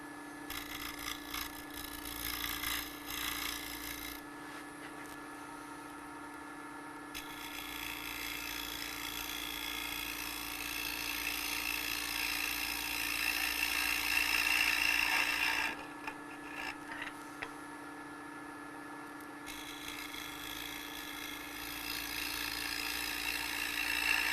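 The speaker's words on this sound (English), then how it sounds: "I'm going to just make a couple more light cuts, light passes, and do some sanding" Hand tools make light cuts and sand a wooden Raffin-style box, steady rasping and rubbing strokes over a constant machine hum, with a couple of quieter pauses between passes.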